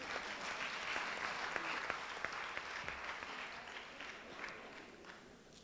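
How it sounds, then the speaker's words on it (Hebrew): An audience in a lecture hall claps steadily for several seconds, a dense wash of applause with a few louder individual claps standing out. "ואני מבקש מחיאות כפיים בשביל להזכיר את זה"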